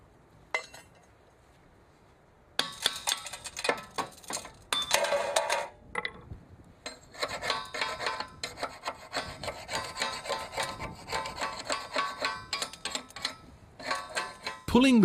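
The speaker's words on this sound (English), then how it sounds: "Now slag residues have to be removed." Slag residues are scraped and rasped off a welded railway rail in irregular bursts of close metallic grinding and clinking, broken by a few short pauses, after a quiet opening.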